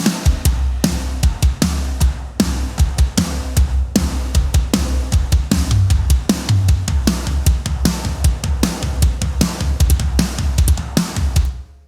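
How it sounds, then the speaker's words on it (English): A full drum kit played through an Eventide SplitEQ plugin and then bypassed, a busy, loud, steady groove of kick, snare and cymbals running continuously without any voice. "So I'm going to play the drums again, and then we're going to bypass it so you can hear what it's taking out."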